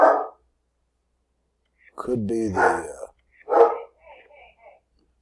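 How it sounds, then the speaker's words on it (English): An Airedale terrier barks in short, sharp bursts at close range, the barks separated by brief silences, with a few words of speech mixed in partway through. "An Airedale speaks. Another one growls."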